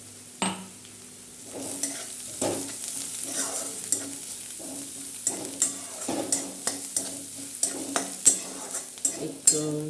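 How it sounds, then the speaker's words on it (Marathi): Finely crushed garlic fries in oil in a pan for fenugreek greens, with a soft sizzle under a run of sharp, regular clicks and scrapes as a spoon stirs against the metal. "असा ठेचून झालेला लसूण टाकायचं आहे आपण याच्यामध्ये आणि सगळं फ्राय करून घ्यायचं आहे"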